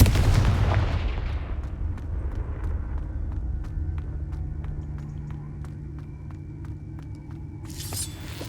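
A Confringo blasting curse explodes in Hogwarts Legacy with a loud, deep boom at the start that rumbles and fades over several seconds, followed by light ticking game effects and a faint brighter burst at the end.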